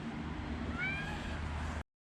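A mangy cat meows outdoors, one drawn-out rising-and-falling meow over a constant noisy background before the sound cuts out abruptly.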